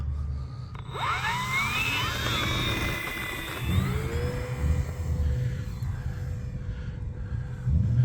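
An RC model airplane takes off, its small electric motor rising in a sharp whining climb, then holding a steady buzzing whir that drops away as the plane pulls off, all over outdoor wind noise.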